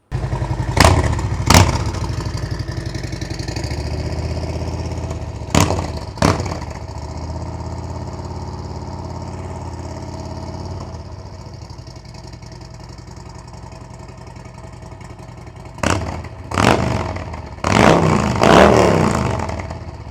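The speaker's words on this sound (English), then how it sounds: "a couple of throttle blips, some revs, whatever." Motorcycle fitted with a TAB Performance Redline Series 2-into-1 exhaust, idling with a deep burble between several sharp, loud throttle blips and short revs, close by and with no talking.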